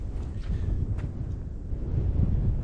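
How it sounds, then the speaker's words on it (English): Breeze buffeting the microphone at a quiet sandy lakeside campsite on Lake Bindegolly, a steady low rumbling roar with no other sounds. "And it's a bit breezy at the moment, but it's not a bad spot."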